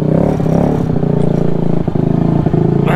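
A Honda Ruckus scooter engine idles high while still cold, a steady, loud, close-up buzzing drone with light mechanical clatter and a few brief ticks, no talking.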